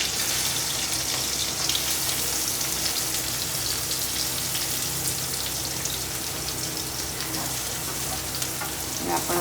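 Chopped onions with cumin seeds and green chilies sizzle steadily in a hot pan, a dense, even crackle that holds at close range without letup.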